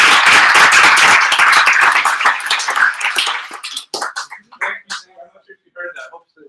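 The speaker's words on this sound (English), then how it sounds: "can we just like do a round of applause for Suzanne" Crowd applause for a person named Suzanne during an Ottawa barbershop talk event, a dense burst of many hands clapping that thins out into scattered claps and a few voices after about four seconds.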